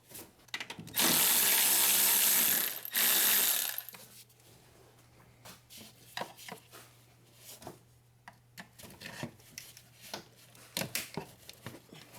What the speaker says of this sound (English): So now I'm gonna remove this nut over here so we can get the this tube out.